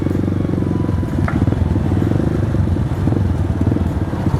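Motorcycle riding through traffic: a loud, steady, rattling engine drone close to the rider, with road noise and no clear talk.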